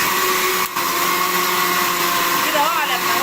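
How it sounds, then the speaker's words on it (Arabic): Electric blender whirring loudly and steadily as it mixes a chicken batter thickened with flour, with one short dip in the motor's drone. "مدوره عليه الخلاط"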